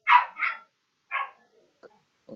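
A dog barks in short, loud, close yips: two quick barks, a third after a pause, then softer muffled woofs trailing off, with no voices.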